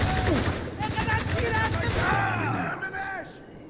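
Rapid bursts of automatic gunfire and overlapping shots from a Spec Ops: The Line firefight, loud and continuous, with shouted voices and battle chatter mixed underneath before the shooting tapers off at the end.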